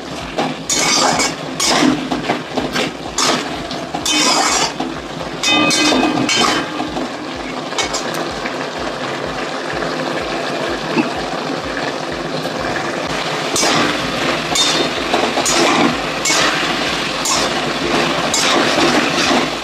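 A metal spoon scrapes and clatters steadily against a pan while a vegetable curry with spices is stirred and fried, a busy rhythmic clinking and scraping close to the microphone throughout, with faint sizzling underneath.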